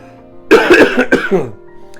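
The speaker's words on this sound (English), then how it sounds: "I'm sorry about my cough" A few harsh, close coughs in quick succession, followed by a brief throat-clearing rasp, then quiet.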